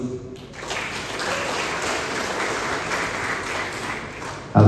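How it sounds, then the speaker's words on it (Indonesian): An audience applauds at the opening of the 15th GP Ansor regional conference in South Kalimantan, a dense, steady clapping that starts after a brief quiet and fills the room throughout. "para peserta konformil GP Ansor yang ke-15, kita berikan aplaus."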